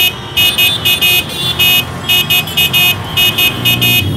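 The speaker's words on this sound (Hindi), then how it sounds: "He is playing with his horn." Car horns in Indian traffic honking in a rapid series of short, loud, repeated toots, one driver beeping again and again in uneven bursts over a constant rumble of engines and street noise.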